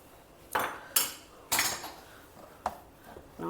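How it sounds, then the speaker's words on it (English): A spoon clinks and scrapes against a bowl or pan in several sharp, separated strikes while mixing a breakfast dish with fresh coriander, grated coconut and lemon juice. "mix it all well together."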